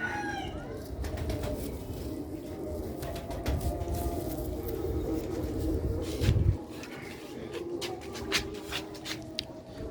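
Black-faced pigeons cooing in a rooftop loft, low steady coos under a dense bed of rustling and occasional wing flaps and clicks, fairly close and continuous.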